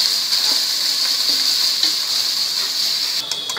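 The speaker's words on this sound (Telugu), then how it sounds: "ఇప్పుడు ఉల్లిపాయ బాగా వేగిపోయింది కదా" Sliced onions fry in a pan for a chicken curry, giving a steady, even sizzle with no talking.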